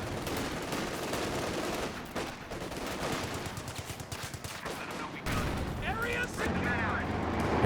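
Machine gun fire rattles in sustained bursts across a loud battlefield in Company of Heroes 2, mixed with artillery and other gunfire, with a commentator talking over the action.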